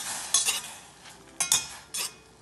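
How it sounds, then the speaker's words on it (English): A spoon stirs berry sauce with cloves in a pot, making a few quick scraping clinks in short bursts over a faint background simmer. "And you want to just stir it."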